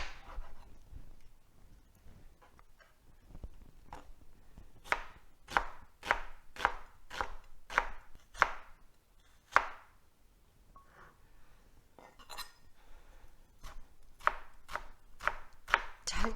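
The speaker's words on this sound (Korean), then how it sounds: "양파를 아주 잘게 썰어주시고요" A knife chops an onion finely on a board, quick rhythmic runs of crisp taps separated by short pauses, close and fairly quiet, with no talking.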